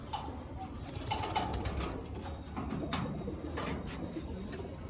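Kaldom and Chinese teddy pigeons coo softly in a home loft, a low burbling murmur running steadily beneath faint chirps and light rustling, with no voices.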